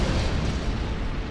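A nuke cannon blast in a real-time strategy game lands as a loud, dense explosion, a sustained rumbling boom with crackle that fills the whole moment.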